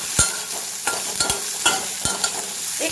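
Onion frying in a pan with turmeric, a steady sizzle under sharp clicks and scrapes of a spoon stirring against the metal, no voices present.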